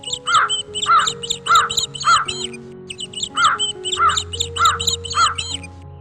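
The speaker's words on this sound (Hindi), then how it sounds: "अगली सुबह सब पक्षी गांव के स्कूल के पास जाकर पेड़ पर बैठ गए और जोर जोर से चहचहाने लगे" Crows cawing loudly from trees by a village school, repeated harsh caws in a steady rhythm with bird chatter in a cartoon story, a low hum beneath.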